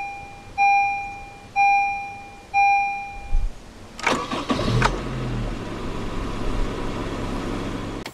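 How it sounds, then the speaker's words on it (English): Three evenly spaced warning chimes ring from a Honda HR-V, then the engine cranks briefly and catches, settling into a steady, quiet idle, heard close up with no talking. "Ini injak kopling sama rem dan kita starter."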